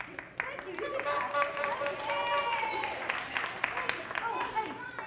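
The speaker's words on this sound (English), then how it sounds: "You can clap." An audience claps at a 1992 children's stage show, a steady, fairly quiet patter of applause that runs throughout with voices chattering over it.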